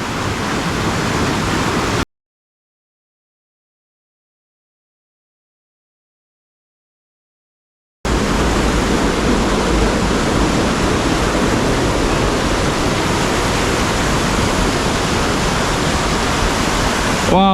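Rushing high water in a wooded glen during rain, a loud, steady broadband roar like a waterfall or torrent, close by, with a brief silent gap early on and no speech.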